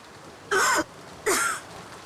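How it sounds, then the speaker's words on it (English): Two short, raspy coughs from a female character in the video game Umineko: When They Cry, about three-quarters of a second apart, stand out clearly against a quiet background. "She's coughing."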